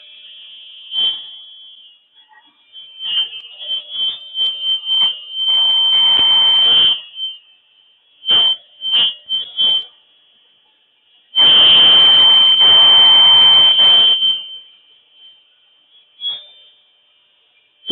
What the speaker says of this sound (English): It's not quiet, but it's not the loudest saw I've ever heard.